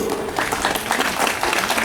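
Applause for a student yoga champion at a school World Yoga Day celebration, a dense, steady patter of many hands clapping together throughout, fairly loud and close with no voices over it.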